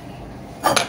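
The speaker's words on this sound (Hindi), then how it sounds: "ये स्पून्स है" Small iron miniature spoons clink together as they are handled, a pair of short bright metallic clinks close by near the end after a quiet lull.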